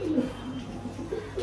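Pigeons coo inside a new wooden eight-compartment pigeon house, soft low throaty calls repeating close by over a faint background hum.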